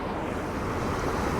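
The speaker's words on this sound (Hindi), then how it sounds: "देख पा रहे होंगे इधर पानी किस प्रकार से जो है बह रहा है" Steady broadband rush of flowing water along the Mandakini river at Janaki Kund, Chitrakoot, continuous and fairly close with no voices.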